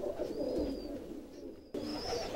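A short-faced Budapest pigeon coos softly and repeatedly in a loft, low throaty calls close by, with a faint higher chirp drifting over them.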